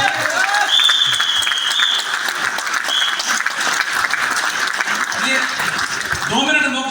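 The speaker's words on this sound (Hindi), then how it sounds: "ऐसी ट्रेनिंग के लिए एक बार जोरदार तालियां बजाओ।" A loud burst of applause fills a training seminar hall, dense and steady throughout, with whistles and voices mixed into the crowd clapping.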